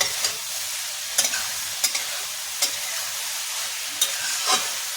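Okra masala (bhindi) frying over a high gas flame, with a steady sizzle broken by sharp, evenly spaced scrapes of a spoon stirring the pan, close and loud, with no talking.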